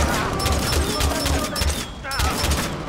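Rapid bursts of gunfire from Far Cry 4 gameplay, with repeated thumping shots in quick succession, loud and close, with a short pause before another burst.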